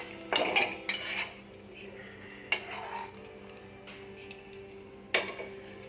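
A metal lid set onto a pan of matar paneer, giving a few sharp clinks and clatters, one near the start, another midway and a final knock near the end, with quiet kitchen room tone between.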